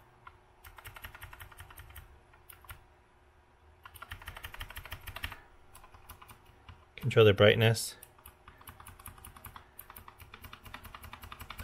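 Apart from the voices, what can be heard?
keys pressed on Azio Retro Classic mechanical keyboard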